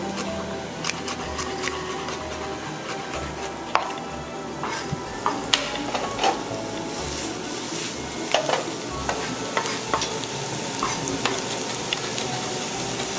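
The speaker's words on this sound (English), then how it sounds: "gonna saute this and let the flavors come out" Celery and seafood ingredients sauté in a pan for a crab-stuffed shrimp dish with lobster sauce, giving a continuous close sizzle broken by frequent stirring scrapes and clicks throughout.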